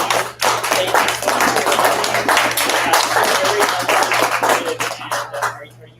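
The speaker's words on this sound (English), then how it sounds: "let's all give a huge round of applause and thank you to Angie" Audience at a community foundation board development workshop applauding, a loud, dense burst of clapping that holds steady for several seconds and then tapers off toward the end.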